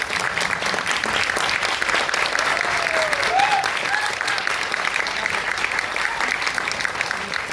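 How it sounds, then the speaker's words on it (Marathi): A crowd claps for a Dashavatar folk theatre troupe at a devotional Marathi play event, sustained dense applause with a few cheers and whistles over it. "एकदा जोरदार टाळ्या श्री देवी माऊली दशावतार मंडळींसाठी"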